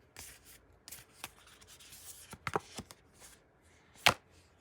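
Tarot cards shuffled by hand, a series of soft, close riffling and rubbing bursts at an irregular rhythm, with one sharper snap near the end, in an otherwise quiet room.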